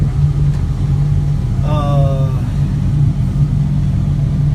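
A 2010 John Deere 544K wheel loader's engine idles with a steady, low, droning hum close by, and a short higher chirp cuts in briefly partway through.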